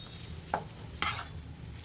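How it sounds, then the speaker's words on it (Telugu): Rice mixed with chopped mint and coriander for plain biryani is stirred in a pot, two short scraping strokes over a faint low simmer. "రైస్ వేసిన తర్వాత వీటన్నిటిని బాగా మిక్స్ చేసుకోవాలి."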